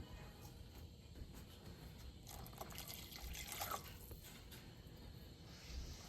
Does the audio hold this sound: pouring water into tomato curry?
yes